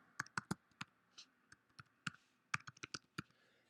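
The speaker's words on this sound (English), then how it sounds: "And I type that in." Quick bursts of clicking keystrokes on a computer keyboard, typed in short uneven runs with brief pauses, close and fairly quiet in an otherwise still room.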